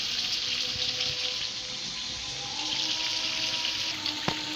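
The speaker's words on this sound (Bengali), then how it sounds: "কষানোর পর অল্প একটু পানি দিচ্ছে" A steady hissing wash of water poured into simmering curry for a rohu (katla) fish stew after the spices are fried, with a faint clink near the end.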